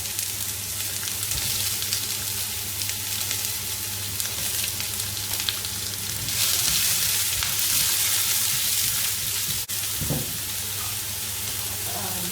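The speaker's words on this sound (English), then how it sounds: "So we just add in the onions." Onions hitting hot oil in a pan where spices are already popping, for Mamak-style fried cabbage, give a loud, steady sizzle and crackle throughout, with a few stirring clatters and a brief utensil knock near the end.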